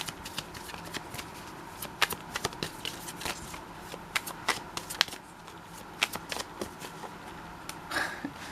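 Tarot cards are shuffled and drawn by hand, giving soft, close riffling and repeated sharp card snaps scattered irregularly over a quiet background.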